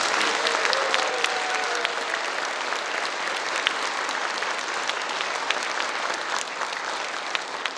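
Audience applause in a concert hall after a performance: a sustained, dense wash of many hands clapping evenly throughout, with no voices standing out.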